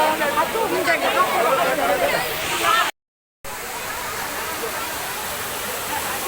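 Kempty Falls in Mussoorie, fed by cold snowmelt, roars steadily with a crowd's chatter mixed in, and the sound cuts out briefly partway through.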